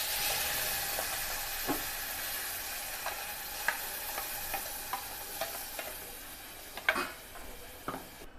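Chhole masala gravy frying in oil in a pan, a steady close sizzle broken by a series of scraping stirs from a spoon, with no talk.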